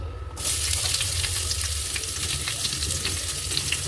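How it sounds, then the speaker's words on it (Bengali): Chopped onion dropped into hot oil bursts into a loud, steady sizzle that continues close up, with faint stirring scrapes throughout and no voices. "এবার কেটে রাখা পেঁয়াজটা দিয়ে দেবো"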